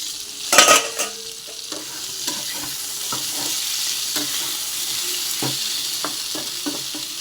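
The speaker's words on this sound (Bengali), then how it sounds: "এখানে আমার দেখুন মূলো ভাজাটা হচ্ছে" Radish pieces fry in a pan in a home kitchen, giving a steady close sizzle broken by irregular stirring scrapes and clicks, with one loud knock near the start.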